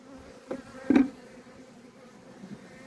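Honeybees in an open hive during spring feeding buzz in a low, steady drone, with a brief louder swell near the start and no talk over it.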